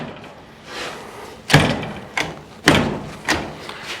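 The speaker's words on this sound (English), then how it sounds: "This door fits nice." Several solid thumps of a 1957 Chevy car door swinging shut, about four bangs in quick succession, fairly close and loud, with no talking over them.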